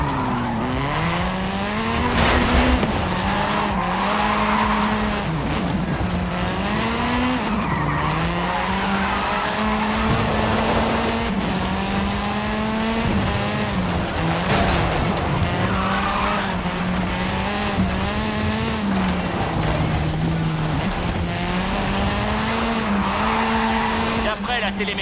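A car drifting in Forza Horizon 5, engine revving with steady rising and falling pitch under continuous loud tire squeal and skidding, with a voice talking over it throughout.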